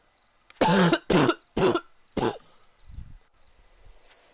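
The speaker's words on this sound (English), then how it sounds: "Sorry about the constant coughing." A person coughs hard four times in quick succession, close and loud, followed by softer throat-clearing rasps and quiet breathy sounds.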